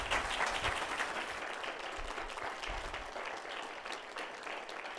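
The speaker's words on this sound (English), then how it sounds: "Can we please give them a big round of applause?" A workshop audience gives sustained applause, a dense, even patter of many hands clapping that carries on throughout without a break.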